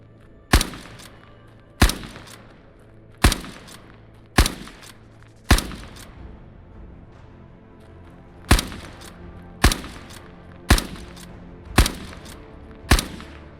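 Lee Enfield rifle firing in a video game: ten loud, sharp single shots spaced about a second apart, each with a short echoing tail, with a brief pause midway and no talking.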